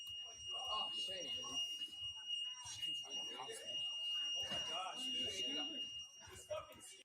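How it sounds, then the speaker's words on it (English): A repeated electronic beeping alarm, like a panic alarm, sounds steadily and clearly throughout a tense police bodycam scene, running beneath continuous shouting and talk. "that beeping sound is like a panic alarm"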